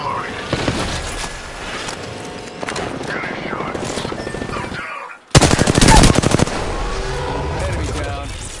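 Gunfire in the shooter Apex Legends, rapid automatic bursts and scattered shots through the first five seconds, then a brief dropout before a loud, close stuttering volley.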